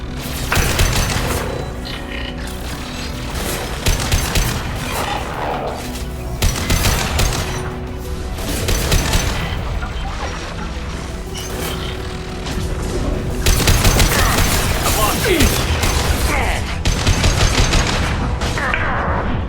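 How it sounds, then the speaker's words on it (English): Sniper rifle fire in the Mass Effect 2 video game, loud shots and blasts repeating throughout amid steady battle noise and mechanical clatter, with no clear talk. "Sniper rifle neutralization."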